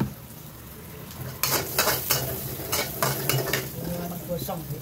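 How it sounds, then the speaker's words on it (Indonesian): Green vegetables are stir-fried in a pan, with a steady sizzle broken by repeated scraping and clanking strokes of a utensil against the pan, close and fairly loud. "Kita goreng sayur hijau ya."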